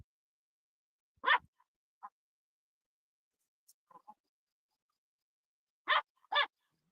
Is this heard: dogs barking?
yes